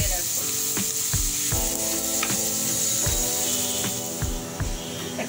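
Potatoes frying in oil in a pot, a steady sizzle with light scraping and stirring knocks at regular intervals, close and alone.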